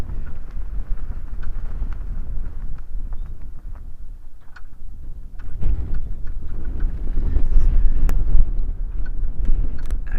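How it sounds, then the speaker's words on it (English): Strong wind buffets an outdoor microphone in an open clearing near a dam, a steady low roar that swells and grows louder in the second half, with no one talking. "It's so windy I'm struggling to hear"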